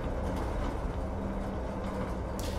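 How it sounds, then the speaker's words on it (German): A city bus in the simulator game OMSI 2 rattles and rumbles steadily in a loud, continuous drone from inside the cabin, with a short brighter clatter near the end. "Vor allem, weil der Bus auch so laut scheppert."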